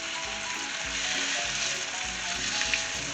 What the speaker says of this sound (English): let's get these cutlets cooking up here